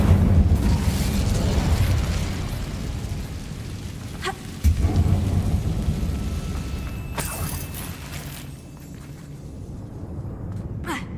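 Incendio fire spell cast in the Hogwarts Legacy video game, a loud continuous rumbling roar with sharp bursts and crackles, steady and dense throughout, with no talking.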